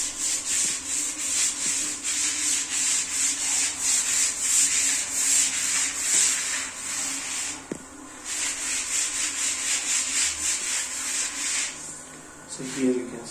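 Steady close scrubbing and rubbing of dirty bathroom floor tiles, a continuous hissy abrasive rhythm with a brief break midway, lasting throughout at moderate loudness.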